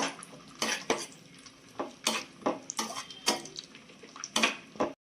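Cashews and raisins fried in ghee in a pan for rava laddu, heard as a series of sharp metallic scrapes and clinks of a spoon stirring, close and fairly quiet, with a faint sizzle underneath and no talking.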